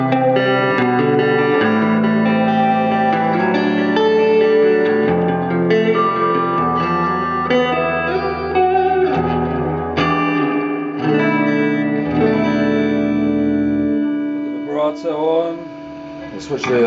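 A 1965 Deluxe guitar amplifier with reverb turned up full, playing sustained guitar notes and chords with a heavy wash of reverb and some grit, steady and loud throughout, the sound thinning out near the end.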